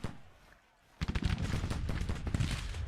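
Rapid musket volleys crackle in the Civil War strategy game Grand Tactician after a brief quiet moment, forming a dense, steady rattle of distant shots.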